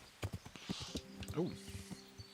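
Horse hooves clip-clop along in Kingdom Come: Deliverance, a steady walking rhythm up close with a brief whinny and someone talking over it.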